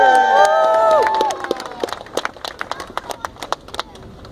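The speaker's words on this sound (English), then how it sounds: "If I get it on the first try, give me a big cheer." Street festival crowd at the 2015 Edmonton International Street Performers Festival cheers and whoops for a performer's trick outdoors, then breaks into scattered claps that trail off.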